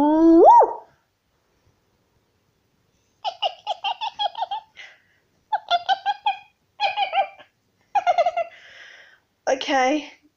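A person imitates a hyena with their voice: a series of rapid, high, giggling whoops in bursts separated by short pauses, loud and close, starting with a rising cry.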